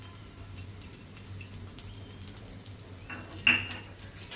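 Okra masala with fresh coriander being gently mixed in a pan: soft, faint scraping of a spoon against the pan, with one sharper clink of metal midway through.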